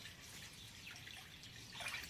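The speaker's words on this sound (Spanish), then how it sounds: "Aquí le vamos a poner un poco de agua" Water poured into a pot of venison birria being prepared Zacatecas style, a faint, continuous trickle and splash that swells slightly toward the end.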